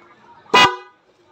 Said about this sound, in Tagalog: Busina. Isang pitik lang to kasi bawal maingay dito.